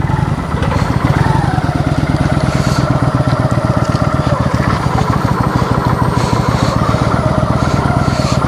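A motorcycle engine idles close by with a loud, steady, rapid chugging throb and some clatter, running continuously before a ride to U-Tapao Airport in Ban Chang.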